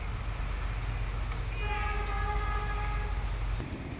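A steam train being towed through Wellington Railway Station, low rumbling rail noise throughout with a steady tonal horn-like note rising over it midway, then fading as the roar continues at moderate distance.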